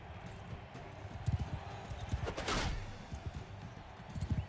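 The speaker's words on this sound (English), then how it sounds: "One last cavalry charge." Cavalry horses gallop through a battle in Mount and Blade II: Bannerlord, hooves pounding in an irregular rhythm while a brief rushing swell of combat noise rises and fades in the middle.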